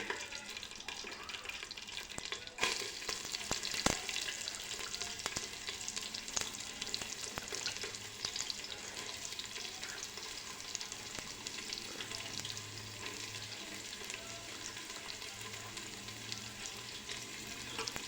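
Lengthwise-sliced onion fries in hot oil in a pan for Maharashtrian masale bhat, with a steady, close crackling sizzle throughout and occasional stirring scrapes and knocks, no voices.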